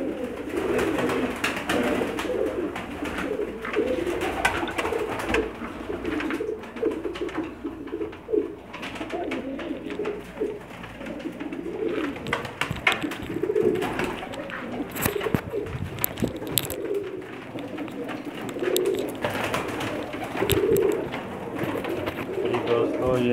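Pakistani breeder pigeons kept in Jeddah coo repeatedly in soft, throaty rolls close by, with wing flutters and shuffling amid steady background noise, while someone talks over them.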